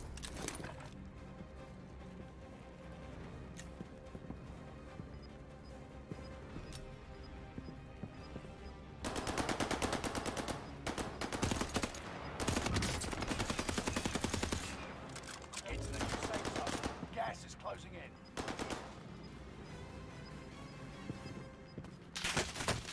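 Gunfire in the video game Call of Duty Warzone on a new map: bursts of rapid automatic shots come in several loud volleys between quieter stretches of game sound, with players talking over it.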